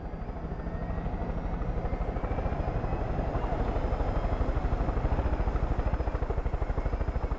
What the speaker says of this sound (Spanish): Vamos en helicóptero.